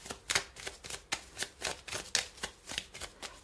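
Tarot cards are riffled and shuffled in a tarot reading, a steady series of crisp rapid flutters and slaps about three per second, close and soft, with no speech.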